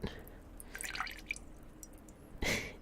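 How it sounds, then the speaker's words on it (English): Water droplets fall in close ASMR-style dripping, with a cluster of small plinks early on and a single louder, wetter drip splash near the end, all quiet and intimate. "I'm trying a new method of doing dripping sounds."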